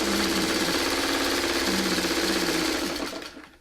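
A sewing machine stitching quilt sashing runs in a fast, steady mechanical whir close by, with no talking, then winds down and stops at the end.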